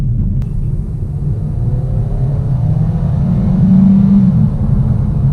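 A 2019 Hyundai Kona's turbocharged engine with dual-clutch automatic drones steadily with road rumble, building gradually as the SUV accelerates, heard from inside the cabin without talk.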